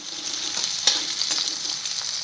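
Chopped onions and green chillies fry in hot oil in a pan, giving a close, steady sizzle with faint crackles and one small clink, with no voices.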